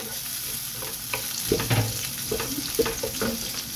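Onions and beef fat sizzling in a hot pan for beef with Baguio beans, a steady close crackle with occasional stirring clatters and scrapes, no talking.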